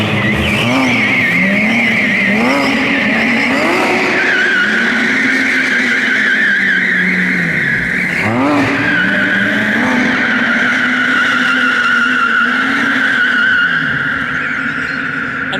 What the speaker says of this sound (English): Pretty standard photo shoot, having a 911R doing a donut around you.